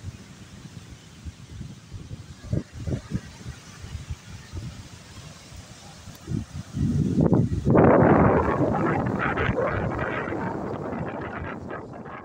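Strong wind gusting at the seaside, rising into a loud, sustained rush of buffeting noise across the microphone after a few quieter, scattered thumps.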